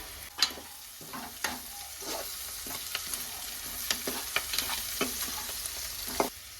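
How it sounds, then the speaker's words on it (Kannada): Capsicum and carrot frying in a pan with a soft, low sizzle, punctuated by repeated close spatula taps and scrapes as the vegetables are stirred, no talking. "ಸೊ ನೋಡಿ, ಇವಾಗ ನಾನು ಇದನ್ನು 1-2 ನಿಮಿಷದವರೆಗೂ ಫ್ರೈ ಮಾಡ್ಕೊಂಡಿದ್ದೀನಿ."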